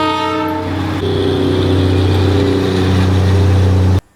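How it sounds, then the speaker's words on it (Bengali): The Darjeeling toy train on the approach to Ghum station sounds a long, loud horn blast that holds steady for about four seconds over the rumble of the train, then cuts off abruptly. "ঘুম স্টেশনে যাওয়ার আগেই টয় ট্রেনের দেখা পেয়ে গেলাম।"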